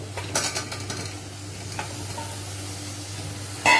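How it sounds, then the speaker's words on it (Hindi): Ghee stirred into bottle gourd (lauki) curry frying in a pan, giving a soft sizzle and scraping stir strokes, with a brief louder clatter at the end. "अभी हम इसमें घी ऐड कर देंगे"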